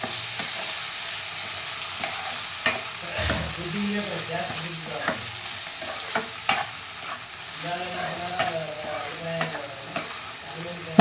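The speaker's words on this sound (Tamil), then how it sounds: "நல்லா ஒரு வாட்டி மிக்ஸ் பண்ணி விட்டுக்கலாம்." Brinjal pieces fry in oil in a pan for a poriyal while a spoon stirs and scrapes through them, a steady sizzle broken by repeated close scraping clicks.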